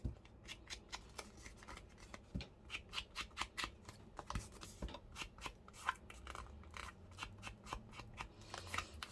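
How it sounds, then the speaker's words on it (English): Repeated crisp snips of fabric scissors, close and fairly quiet, cutting in a steady irregular rhythm with small pauses and light handling noise. "they're my fabric scissors"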